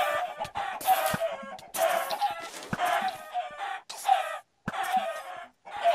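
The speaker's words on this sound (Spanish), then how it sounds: "¿Por qué se escuchan gallinas?" Chickens in Minecraft clucking over and over in loud, close bursts with short gaps between them.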